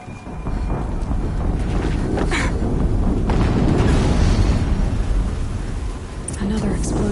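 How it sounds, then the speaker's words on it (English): Explosions rumble through combat in the video game Horizon, a sustained loud low roar and boom that lasts the whole stretch with no break. "Another explosion."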